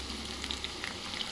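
Battered gobi manchurian cauliflower pieces frying in hot oil, a steady dense close sizzle with small crackling pops throughout.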